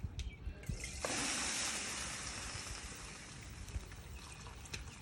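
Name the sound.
water poured into a container for the smoker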